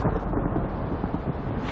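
A low, continuous rumble of thunder rolls through a lightning storm, steady and heavy with no talking.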